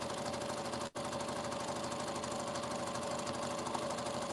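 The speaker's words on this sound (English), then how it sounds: "here we're just going to sew these 2 squares together" A sewing machine runs steadily as it joins two raggy quilt squares, a fast even mechanical chatter with a faint hum, broken by one very short pause near the start and carrying on unbroken after that.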